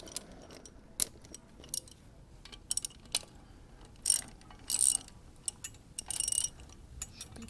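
A bolt on the engine crash bars of a BMW R1200R motorcycle being tightened with a ratchet tool, giving irregular quick metallic clicking bursts close up, with small tool clinks in between and no speech.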